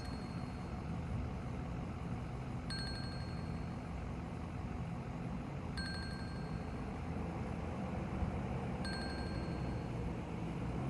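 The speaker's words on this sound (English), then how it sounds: "I've got a tow truck" A nearby tow truck idles with a steady, low diesel rumble, while a short electronic beep repeats about every three seconds over the engine.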